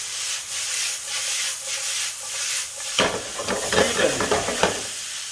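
Lo mein noodles with oil, ginger, garlic and vegetables sizzle steadily in a hot pan, then get tossed and stirred with a burst of clattering, scraping and busy frying sounds close up, with no talking.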